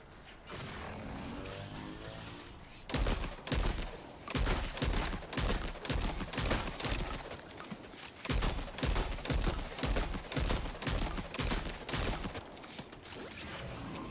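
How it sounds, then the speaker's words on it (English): Rapid, loud shotgun blasts from Death Stranding 2, fired in quick succession with a short pause midway, each report sharp and percussive over a steady mechanical background hum. "you can watch me fire at this with a shotgun"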